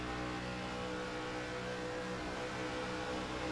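Race cars in a racing video game roaring at full throttle on the Beach Blast 250 track, a continuous, even drone of engines held at high revs with no breaks, moderately quiet and without voices.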